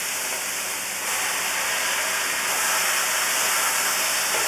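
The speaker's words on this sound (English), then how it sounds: "now we're going to add our cooked noodles" Cooked noodles hit a hot wok with sliced peppers for Kung Pao noodles, setting off a steady, loud, close sizzling hiss that swells slightly and continues without pause.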